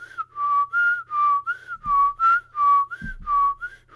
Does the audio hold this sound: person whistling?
yes